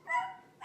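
A voice imitates a dog barking, giving a short drawn-out woof-like call followed by the start of another, quick and close to the microphone.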